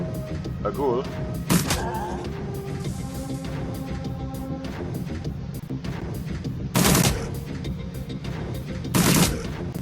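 Gunfire in the Shadowrun: Dragonfall game comes as a few loud, sharp bursts standing out from a low game backdrop, one early and two later, each brief and punchy.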